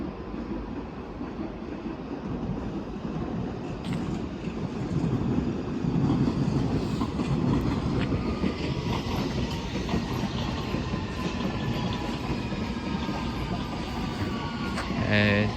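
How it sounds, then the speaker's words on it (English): A London Underground District line train bound for Upminster rolls into Barking station, its steady rumble and rail clatter building and sustained throughout, with wheel squeal and station ambience and faint voices in the background. "a district line service to Upminster comes in"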